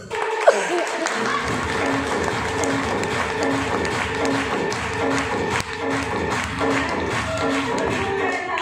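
Audience clapping fills the whole stretch as a dense, steady wash of applause from a crowd, with no pause and no voices on top.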